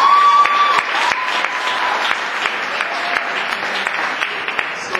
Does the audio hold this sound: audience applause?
yes